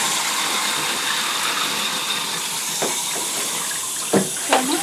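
Tap water runs steadily into a bath for a puppy in a continuous hiss, with a couple of brief squeaky or vocal sounds near the end.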